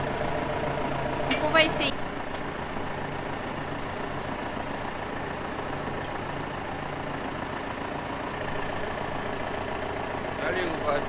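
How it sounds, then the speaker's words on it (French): A tractor engine idles with a low, steady rumble throughout, while a person speaks briefly over it and a couple of short squeaks cut in. "On va prendre le tracteur."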